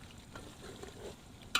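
Capsicum, chillies, garlic paste, coriander-cumin and turmeric frying in a pan at a campsite, a faint low sizzle with soft stirring scrapes and a sharper clatter at the end.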